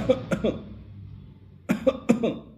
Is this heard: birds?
no